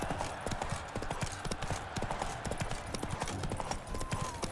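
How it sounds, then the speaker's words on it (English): Rapid, steady hoofbeats of a galloping horse in The Witcher 3 drum along at an even rhythm over a dense, loud backdrop of game music and effects. "With a thunderous roar, hoofs pound the ground."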